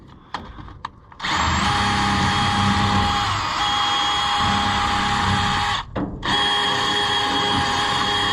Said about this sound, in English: I'd love to wire wheel this some